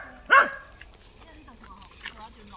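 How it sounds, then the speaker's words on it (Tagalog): A dog gives a single loud, close bark near woods by a reservoir, followed by quieter rustling and faint background sounds, with a person talking softly afterward. "Maingay ang aso."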